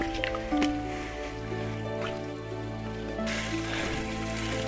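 Water trickles and splashes steadily through a small water-powered prayer wheel at a water chorten in Bhutan, a continuous close liquid flow over a low background hum.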